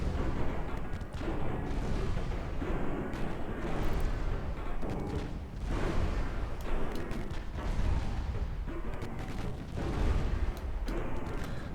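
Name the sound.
naval gunfire, shells hitting cruiser armour, from a video game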